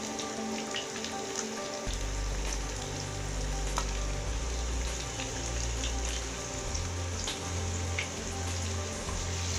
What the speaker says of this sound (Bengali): ফোড়ন তুলে নেওয়ার পরে আমি কিছু পেঁয়াজ কুচি দিচ্ছি।